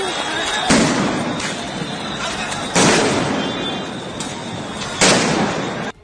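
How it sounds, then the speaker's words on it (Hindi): Police grenades burst among fleeing protesters in Dhaka, three loud blasts a couple of seconds apart over a constant roar of crowd noise. "पुलिस के फेंके ग्रेनेड उनके बीच फटते गए"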